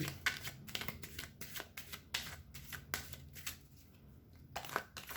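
A deck of cards is shuffled close up, a rapid run of riffling flicks and soft slaps repeating in quick bursts.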